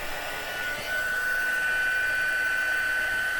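An embossing heat tool blows a steady, even whir with a high tonal whine while reheating a paper heart dusted with embossing powder, continuous and moderately close.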